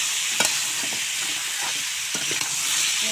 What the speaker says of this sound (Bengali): মিষ্টি কুমড়ো আলু দিয়ে এখন মশলার সঙ্গে ভালো করে কষিয়ে নেব